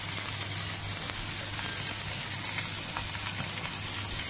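Grated ginger and spices fry in hot oil with a dense, continuous sizzle, steady and fairly loud throughout, with no talking.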